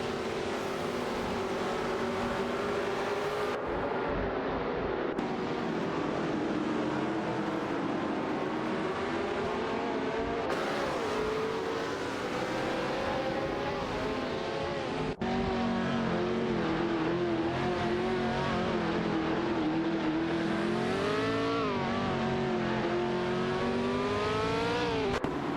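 Race cars in an AI racing video game howl past one another during overtakes, engine notes rising and falling in long sweeping pitch changes, loud and continuous throughout with no talk.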